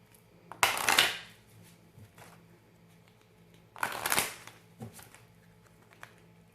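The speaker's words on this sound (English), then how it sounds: "I know, I'm shuffling more than normal." A deck of tarot-style reading cards being shuffled by hand in two quick riffling bursts a few seconds apart, crisp and close, with a few lighter card taps between them.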